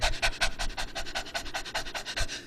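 A human voice imitates a dog's rapid panting: quick, breathy in-and-out puffs repeated steadily about a dozen times in a close, even rhythm, with no talking.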